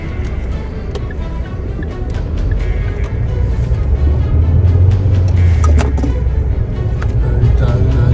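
A car engine runs steadily close by, a loud low rumble that builds slightly and holds at a constant idle with a faint rattle over it; no talking.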